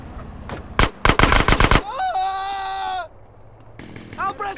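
A rapid burst of gunfire in the video game GTA San Andreas, a string of sharp close shots followed by a character's voice and other speech.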